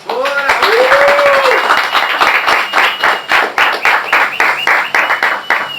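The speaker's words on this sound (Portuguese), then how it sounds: "Você pode dar um aplauso ao Senhor Jesus? Aleluia! Pode aplaudir mais forte." A church congregation claps and applauds loudly in a sustained burst, with a voice calling out over the start of the clapping.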